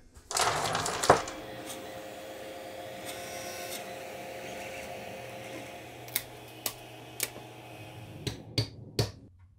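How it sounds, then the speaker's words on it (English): A 500-watt brushless motor with a large propeller, powered by supercapacitors for an electric rocket, spins up with a loud whirring onset that settles into a steady hum, followed by several sharp clicks near the end. "I'm going to use six of these supercapacitors to power a 500 watt brushless motor uh, using a large propeller"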